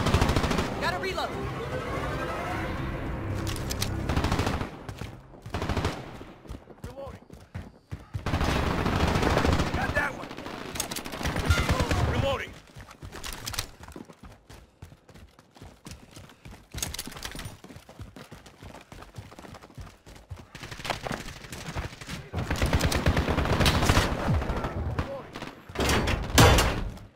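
Repeated automatic gunfire from a team deathmatch in Call of Duty: Modern Warfare (2019) comes in dense rattling bursts separated by short pauses and reloads. It is loud and close, with game voice callouts mixed in.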